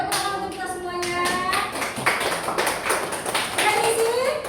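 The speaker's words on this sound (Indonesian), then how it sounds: "Oke, tepuk tangan untuk kita semuanya." Students in a classroom clap together in brief applause at the end of a lesson activity, fairly close and lively, mixed with overlapping voices and chatter throughout.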